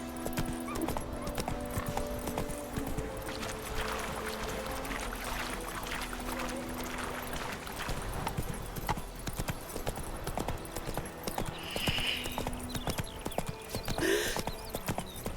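Roach the horse gallops in Witcher 3, with fast continuous hoofbeats under game music and ambience, and a brief whinny near the end.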